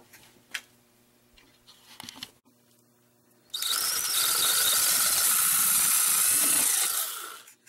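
A power drill cuts a small hole, about a quarter inch, through a Kydex neck knife sheath, a loud continuous high whine that starts abruptly after a few seconds of faint handling noises and runs steadily before tapering off.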